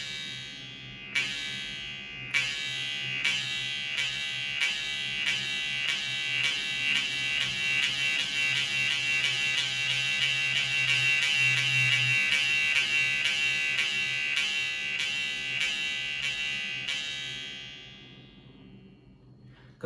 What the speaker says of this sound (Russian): хомус, прижимаем к зубам и с медленного начинаем